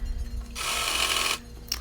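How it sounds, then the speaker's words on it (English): A sewing machine runs a straight stitch over the stretch fabric of a biker-shorts waistband, one steady whirring burst just under a second long set against a quiet room hum. "going over with my sewing machine with a straight stitch just to make sure it's secure"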